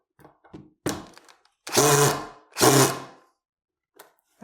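A power drill drives a screw into a workbench and strips the screw head. A few light knocks are followed by two loud, close bursts of the drill motor, each lasting about half a second, with quiet gaps between.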